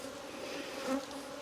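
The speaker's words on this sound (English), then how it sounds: "when bees start to get a little bit aggressive, they hit you" Honeybees from a disturbed backyard hive buzz steadily and close, a dense sustained drone that swells briefly near the end, with no voices.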